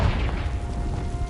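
A Confringo blasting spell goes off in Hogwarts Legacy, a short dull low boom that rumbles on for about a second with no talking over it.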